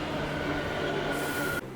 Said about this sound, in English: we lost a race to the Southern train